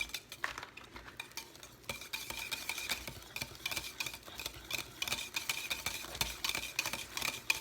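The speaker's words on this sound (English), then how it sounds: "So now I just have to stir and stir and stir it until it gets a nice waxy, shiny coating to it" A spoon stirs caustic tallow soap mixture in a pot, scraping and clinking steadily and rhythmically against the sides. The strokes are close and moderately quiet, with no voice over them.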